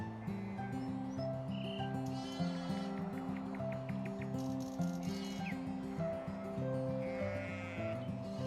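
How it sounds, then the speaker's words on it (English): Lambs bleating in a springtime field in the UK, several distinct bleats near and far over a steady, layered background hum. "spotted some lambs"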